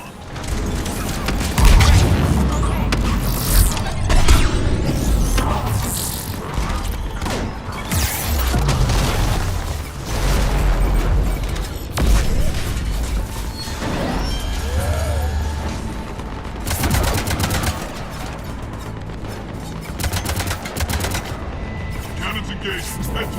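Cannons fire in the video game Mass Effect 3, a dense run of heavy booms and gunfire bursts with mechanical clanks, loud and continuous, while game voices speak over the battle.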